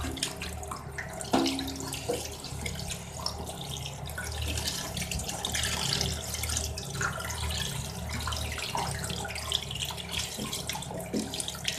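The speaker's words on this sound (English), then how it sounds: "So I need to now rinse the salt from the body of the fish." Catfish is rinsed under running water from a tap to wash off salt, a steady close splashing stream with occasional knocks and drips throughout.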